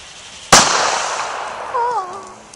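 A firework goes off at home-celebration distance with one sharp, loud bang followed by a long fading crackle, then a faint wavering tone, heard alone without talk.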